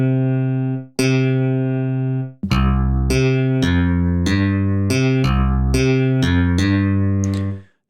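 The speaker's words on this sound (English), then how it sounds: "That sounds a lot more like an electric bass." Wavetable bass patch on a Reason Thor synthesizer with a filter envelope: a sequence of about nine plucky, electric-bass-like notes, each opening bright then quickly darkening, played up close and alone in a short melodic line.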